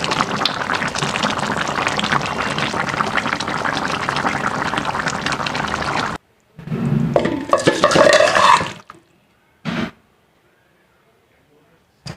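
Rohu fish curry boiling in a cooking pot, giving a steady loud bubbling hiss for several seconds that cuts off abruptly, followed by a few short clattering bursts and near silence.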